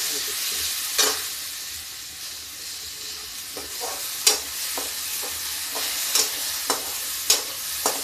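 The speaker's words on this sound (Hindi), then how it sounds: "तो इसको मैं इससे थोड़ा सा फ्राई करूँगी" Soaked chana dal fries in a pan with a steady, close sizzle, broken by several sharp scrapes and knocks of a spoon stirring it, with no talking.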